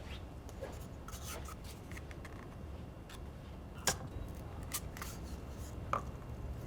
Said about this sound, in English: we're going to get our scissors, or get an adult to get our scissors, and we're going to cut a small hole round about here.